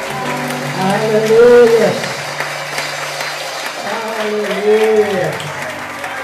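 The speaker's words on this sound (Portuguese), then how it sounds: "Pode aplaudir o Senhor" Congregation applause fills a church celebration service, a steady wash of clapping with voices loudly calling out and chanting over it in two swells.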